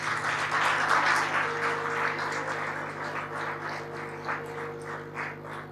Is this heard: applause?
yes